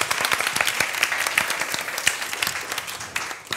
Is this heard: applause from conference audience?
yes